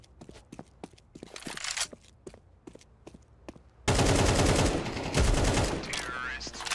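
Video game gunfire: scattered single shots and short bursts over faint footsteps, then a sudden dense roar of sustained automatic fire and explosions, loud and continuous, with players talking over it.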